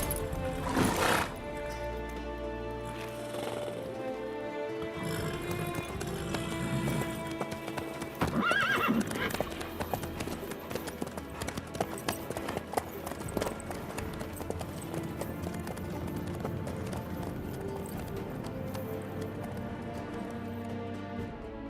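Horse hooves clip-clopping steadily in The Witcher 3 video game, with a loud whinny near the start and snorts scattered through, close and continuous over a soft ambient backdrop.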